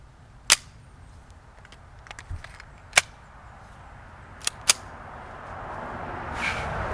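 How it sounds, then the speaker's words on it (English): A Ruger 22/45 Lite pistol fires .22 long rifle rounds as five sharp, loud cracks spaced irregularly over several seconds, followed by low outdoor rumble with no talking. "Let's shoot another magazine through here,"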